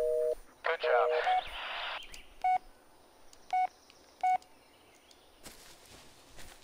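Phone keypad tones dialing in the horror video game Blair Witch, a quick burst of beeps followed by three evenly spaced ringback tones, clear and close with no talk over them.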